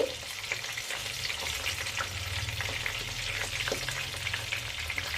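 Chicken satay skewers fry gently on low heat, giving a steady, close, even sizzle with a soft crackle that holds without a break and has no voices.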